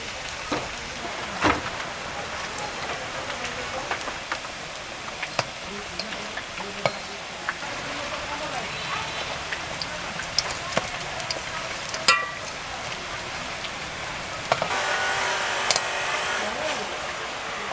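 Malabar spinach fritters (pui patar bora) fry slowly in oil, giving a steady, close, soft sizzle dotted with small crackles and pops that runs the whole time, swelling slightly near the end.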